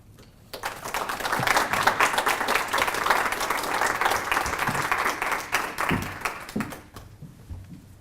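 An indoor lecture audience applauds to welcome speaker Sandra Reddish: steady, dense clapping from a room full of people that starts abruptly, holds for about six seconds, then thins out and fades.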